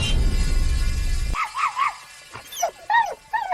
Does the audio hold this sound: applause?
no